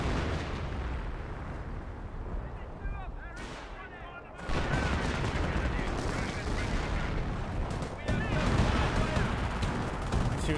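Continuous battle din from Company of Heroes 1, dense overlapping gunfire and rumbling blasts, with a brief dip before heavier firing resumes and swells again near the end.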